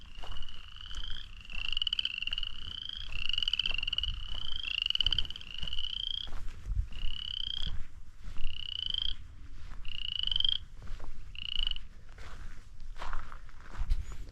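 Frogs along a road in Kansas give a run of repeated croaking calls in steady pulses, loud and close, with scuffing footsteps underneath.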